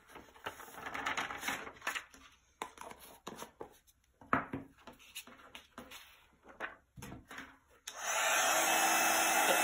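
An embossing heat tool melts Sparkling Snow embossing glitter. Light tapping and clattering come first, then the heat tool switches on near the end with a loud, steady blowing whoosh.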